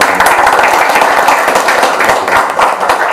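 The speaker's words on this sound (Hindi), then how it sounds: "जोरदार तालियां।" Audience in a Hindi-language TV newsroom gives dense, steady applause, many hands clapping loudly and close throughout.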